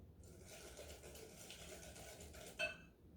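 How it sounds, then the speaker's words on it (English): A whisk beats eggs into pecan pie filling in a bowl, giving soft, quick scraping and tapping close by, with a sharper clink near the end. "Now I'm going to whisk this together. Just make sure it's all blended and those eggs are broken up."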